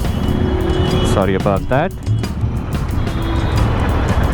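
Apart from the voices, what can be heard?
loud aftermarket exhaust revving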